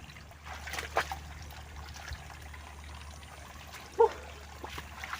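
Water trickles steadily beside a rice paddy, a faint, continuous flow at low level with a couple of brief sharper splashes along the way.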